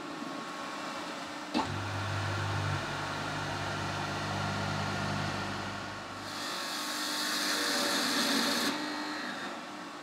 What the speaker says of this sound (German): Zum Bohren der Dübellöcher kommt eine weitere Maschine zum Einsatz, die Langlochbohrmaschine